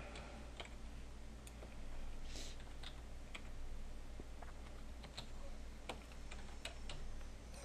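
Rapid clicking of computer keyboard keys as text is typed in, a steady run of light, close taps with uneven spacing over a low background hum.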